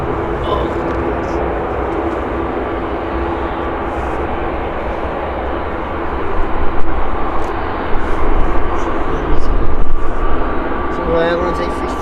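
An airliner taxis and turns at Manchester Airport's south side, its engines giving a steady broadband roar that swells slightly past the middle, with voices talking nearby.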